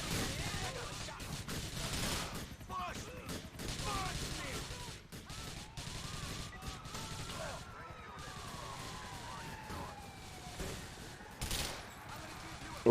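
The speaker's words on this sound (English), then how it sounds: "Ron is starting the shooting sequence of Wrong is Right" Rapid gunfire from a shootout in the video game GTA IV, dense crackling bursts running throughout at moderate volume with a sharp burst near the end, no voices.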